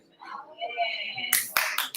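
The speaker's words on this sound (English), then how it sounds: "round of applause." Someone speaks briefly, then a live event audience in Atlanta breaks into clapping for the last stretch, a few loud bursts of applause close by.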